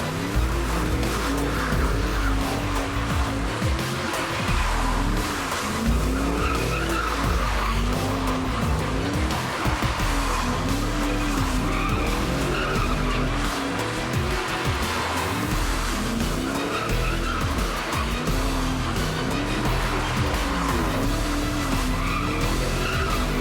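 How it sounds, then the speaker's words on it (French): A Ford Mustang muscle car roars continuously with tires squealing and skidding, engine revving loud and close throughout, no talk. "Une voiture musclée, la Mustang"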